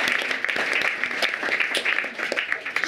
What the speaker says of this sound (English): let us just give her a round of applause